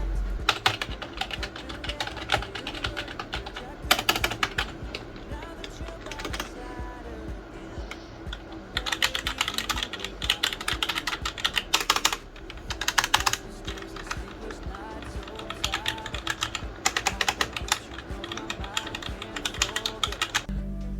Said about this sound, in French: je vais comparer le bruit du clavier entre mon clavier à membrane et mon clavier mécanique